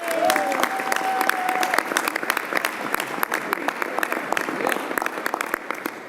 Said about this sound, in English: Why don't you give yourselves a round of applause